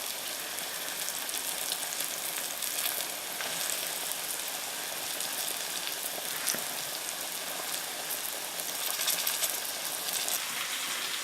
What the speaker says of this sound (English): You get a nice good sizzle there on your chicken.